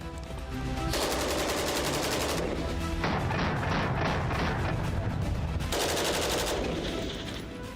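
Sustained automatic fire from a wood-furnished, select-fire rifle related to the AK, loud and close, running in long rattling bursts for the whole stretch with only brief changes in intensity.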